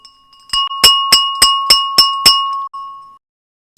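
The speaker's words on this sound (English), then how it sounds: "Are we ready, Chris Beecham, to ring that bell with" A market open bell rung in a quick series of about eight sharp, evenly spaced strikes, each leaving a clear ringing tone that fades after the last hit, loud and close with no talk.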